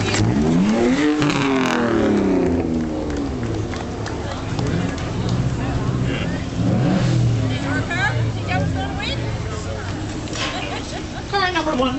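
A prepared rally car accelerates away at the Targa Newfoundland start, its engine revving loudly and sweeping past beneath an announcer's continuous commentary and crowd noise.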